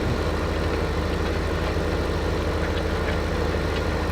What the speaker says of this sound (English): That little tractor pulls the rake pretty well.